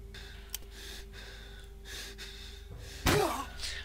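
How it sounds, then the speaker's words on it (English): Heavy, strained breathing of a badly wounded character in the zombie game Dead State, faint and rhythmic over a steady game hum, ending in a sharp loud gasp near the close. "that breathing you hear is just my character having a hissy fit because he's nearly dead"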